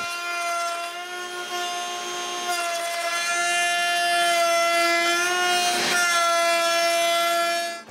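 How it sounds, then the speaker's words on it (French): Router table shaping wooden moldings in a woodworking shop, a loud continuous high whine with strong harmonics holding steady for the whole stretch. "J'ai juste à utiliser la table de toupie."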